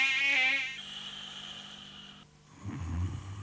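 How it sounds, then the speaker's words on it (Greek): Mosquitoes whine in a high, steady buzz for under a second in a 1997 Greek TV advert for Baygon Genius insect repellent, followed by a softer hum and a low rumbling snore-like sound, with no talking. "Διώχνει μακριά τα κουνούπια"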